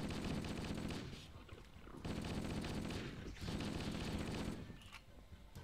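Rapid bursts of automatic gunfire from Halo: Combat Evolved come in three or four loud, dense volleys separated by brief lulls.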